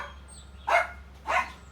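Two separate barks from a dog that is being told to stay while a squirrel nests nearby, each a short loud burst with a pause between, over a steady low hum.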